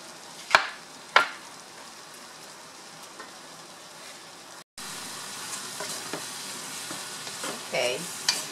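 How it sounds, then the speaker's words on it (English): Aromatics sizzle and fry in a pan for rice with pigeon peas and ham, a steady crackling hiss with two sharp clatters early on, a brief cut, then a louder continuous sizzle with small stirring knocks. "so all our aromatics are sauteing"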